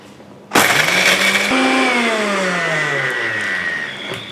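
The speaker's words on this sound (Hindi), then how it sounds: "इस तरह के मिक्सी के जार में डालेंगे और इनको हम ग्राइंड कर लेंगे।" A mixer grinder jar grinding Oreo biscuits, a loud motor that kicks in suddenly with a high whine, then drops into a steady roaring churn as the pitch slowly sinks, close and continuous, with no talk.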